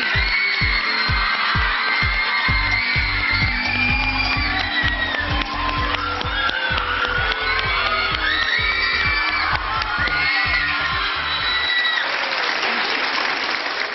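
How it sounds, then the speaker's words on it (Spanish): A television talk show studio audience cheers and applauds, with dense clapping, whoops and shouts under a steady rhythmic beat, then the crowd noise swells and the beat drops away near the end. "vamos a recibir con un fuertísimo aplauso a Maite Perroni y a William Levy."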